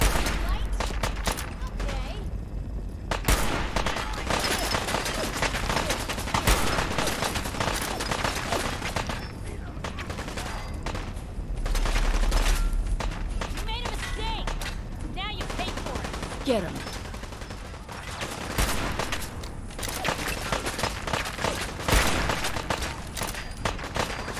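Gunfire in Fallout 4: a long firefight of repeated single shots and rapid automatic bursts, some close and loud, others farther off, with voices talking in between.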